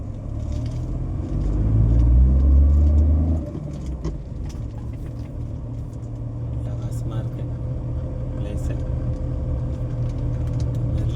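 A vehicle engine rumbles low and steady as it pulls along a rough route, swelling briefly louder early on, with someone talking over the drone throughout.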